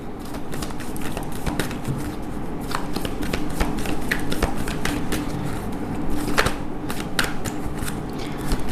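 Tarot cards being shuffled and drawn, a continuous dense riffle of card slaps and flicks for the full length of the clip, moderately loud and close, with no talk over it.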